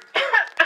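Two short, close coughs in quick succession, the first longer and the second a brief sharp burst, with no talking.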